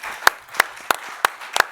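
Conference audience applauding a speaker at a water-financing forum: five sharp, evenly paced claps, sparse and fairly close, as if from only a few people, ending after under two seconds.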